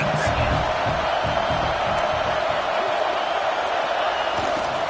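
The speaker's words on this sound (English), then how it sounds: "this crowd is making it miserable on this offense" A roaring football stadium crowd at Nebraska versus Clemson during a fourth-down play, a loud continuous wall of noise with a broadcast announcer talking over it.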